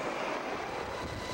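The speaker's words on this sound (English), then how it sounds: "Flying ahead of the convoy, looking for Iraqi positions, were heavily armed Apache attack helicopters." Heavily armed Apache attack helicopters flying ahead of a military convoy during the 2003 invasion of Iraq produce a continuous loud engine and rotor roar, steady and dense for a brief moment without voices.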